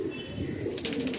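Soft, overlapping cooing from Nasal Giribaj pigeons in a loft, a steady low murmur of several birds nearby, with faint light rustling.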